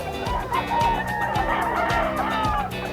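Chickens and a rooster at a Filipino market stall, clucking and calling up close in short repeated bursts over a busy background murmur.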